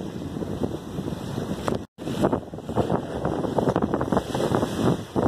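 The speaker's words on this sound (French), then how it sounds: "le vent continue de souffler" Wind gusts buffet the microphone in a continuous rough rush at sea on the Sea of Cortez, with a brief dropout partway through and no voices.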